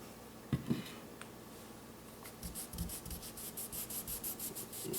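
A rag rubbing a coating onto a rusty 17HMR rifle, with a few soft knocks followed by a quiet, rhythmic series of swishing strokes close by.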